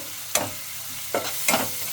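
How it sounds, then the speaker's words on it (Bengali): Spice masala and minced meat fry quietly in a pan while a spoon scrapes through it in three brief, separate stirring strokes over a faint background sizzle. "মশলাটা একটু ভালো করে ভেজে নেব তারপরে আমি মাংস কিমা করে আগে থেকে রেখে রেখেছিলাম দিয়ে দেবো"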